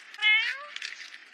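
A cat meows once, loud and close, a drawn-out rising call followed by fainter rustling and movement.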